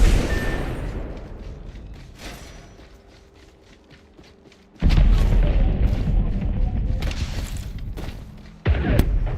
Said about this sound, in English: Fox 3, launching missiles.